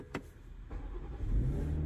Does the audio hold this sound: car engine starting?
yes